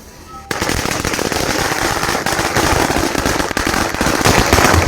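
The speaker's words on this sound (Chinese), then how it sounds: "鞭炮一响，黄金万两。" A long string of firecrackers goes off at a Chinese New Year celebration beside a fishing spot. It starts suddenly after a short lull and then keeps up as a loud, continuous rapid crackle of bangs until the end.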